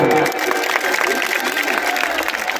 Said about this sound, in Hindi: एक बार उन लोगों के लिए आप लोग जोरदार तालियां बजाएं।